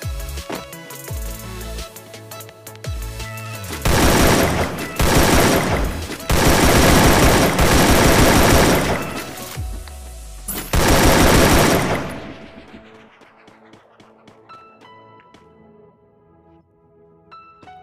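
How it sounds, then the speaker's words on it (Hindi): Rapid bursts of automatic gunfire from a video game fill the clip in loud, dense volleys separated by short pauses. Fainter shots and game effects trail off near the end. "शॉट गन से जाएगा"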